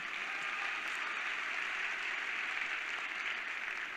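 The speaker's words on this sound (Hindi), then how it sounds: "तालियां बजा सकते हैं कोई।" Audience applause, a steady dense wash of clapping heard at a distance, even in level throughout with no voices on top.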